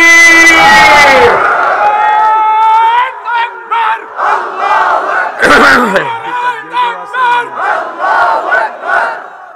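Large crowd roaring a unison Allahu Akbar chant in answer to a takbir call at a religious gathering, starting with one loud massed shout, then a second surge followed by rhythmic repeated chanting bursts, loud and close.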